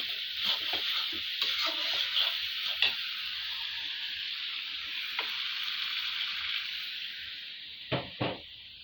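Spice masala for a country chicken curry sautés in a pan, giving a bright continuous sizzle broken by sharp spatula clicks and scrapes, with a couple of louder knocks near the end; no voices.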